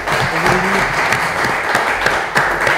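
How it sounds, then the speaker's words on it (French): An audience at a televised quiz show applauds a contestant, a dense, steady wash of clapping that fills the space and holds at an even level, with a faint voice underneath at the start. "Alors merci de l'applaudir."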